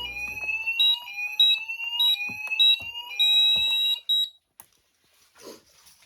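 Garage fire alarm system sounding during a monthly test: loud, close electronic tones whoop and repeat in rising sweeps, cut off abruptly after about four seconds, leaving faint clicks and a quieter tail.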